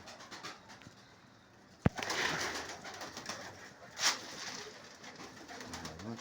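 A pet pigeon coos softly while being fed indoors, quiet murmuring calls with a sharp click and a brief scratchy burst in a hushed room.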